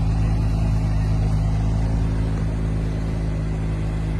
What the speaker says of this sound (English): with that center exit exhaust was spotted again, and it sounds very interesting. Take a listen to this.